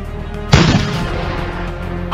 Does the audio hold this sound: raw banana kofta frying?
no